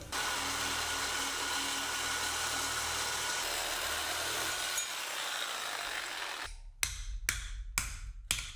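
A power tool cuts straight through aluminum piping for a quad-turbo setup, a loud, steady, harsh grinding roar lasting about six seconds, followed by several short, sharp bursts of cutting.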